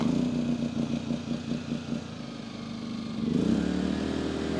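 A 2,000-watt home generator with a recoil starter runs with a steady mid-pitched engine drone and rhythmic mechanical pulsing, shifting in tone partway through as the load or speed changes.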